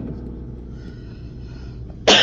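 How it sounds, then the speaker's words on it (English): A single forceful human sneeze bursts out loudly at the very end, abruptly breaking over a steady low rumble of vehicle engine noise. "That's the most forceful sneeze I've done in ages."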